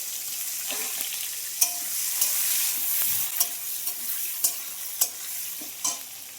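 Cumin seeds and a bay leaf sizzle in hot oil, a bright, continuous crackle with a row of sharp spoon knocks and scrapes against the pan.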